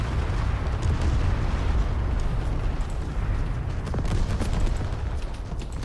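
Artillery in a video game set in a massive fort assault: a continuous, dense rumble of heavy booming fire, loud and sustained throughout, with no talking.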